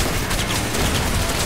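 Dense, continuous battle gunfire in Call of Duty: Black Ops, a loud wash of overlapping shots with no clear gaps between them.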